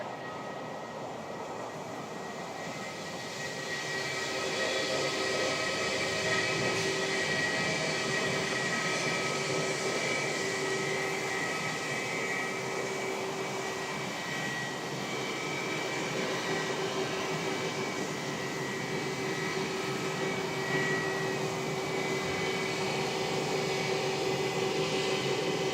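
A Jetstar airliner, flight JQ-258, rolls for takeoff on runway 16 at Wellington Airport, a broad steady jet roar that swells after a few seconds and holds loud and sustained.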